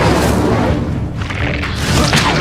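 A heavy booming fire spell, Incendio, cast in Hogwarts Legacy, a loud dense roar of flame and rumble that holds steady for a couple of seconds.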